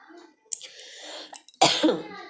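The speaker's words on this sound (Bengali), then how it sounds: "প্রচণ্ড কাশি আসছে।" A person coughing in a couple of harsh, broadband bursts; the heaviest fit comes near the end and is preceded by a shorter cough and some breathy throat noise, close and fairly loud.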